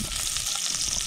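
Onions frying in oil in a red-hot pan over a campfire, giving a steady, close, broadband sizzle that holds evenly throughout the short moment with no talk.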